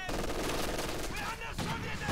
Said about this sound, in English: I shot some guy with a rifle grenade, and it was like a perfect shot